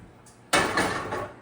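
A sudden clatter and scrape sounds as a fermented rice appam is lifted from its pan, followed by a short hissing tail.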